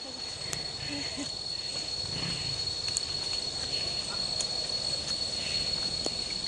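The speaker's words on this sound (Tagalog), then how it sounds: "Tapos yung mga kuliglig nga. Naririnig na namin." Crickets chirp in a steady, continuous high-pitched trill, a dense insect chorus filling the forest background with faint rustling underneath.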